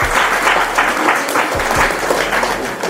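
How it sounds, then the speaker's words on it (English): Students in a high school assembly clap together for a few seconds, a fairly loud, slightly uneven burst of many hands with no talking. "Clap for him, please."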